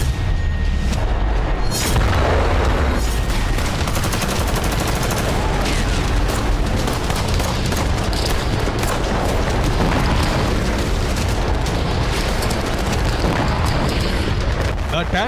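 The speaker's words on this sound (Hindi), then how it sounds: "टैंक से गोलाबारी की गई" Heavy shelling from tanks in war news footage, a dense, continuous barrage of booms and rapid gunfire, loud and close throughout, with no gaps of quiet.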